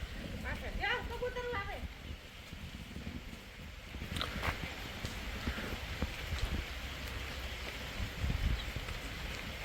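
Steady rain falls over a farm plot, a dense continuous hiss of drops on surfaces throughout, with faint voices in the background.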